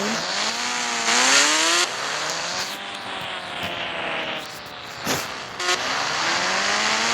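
Kawasaki Ninja ZX motorbike in an Indian bike video game, its engine whining and rising in pitch through repeated gear shifts, loud and close, with occasional tire-squeal bursts and no talking.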